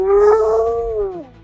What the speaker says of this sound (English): To make sure her howl reached as far as possible, she lowered her head to the ground like a pro.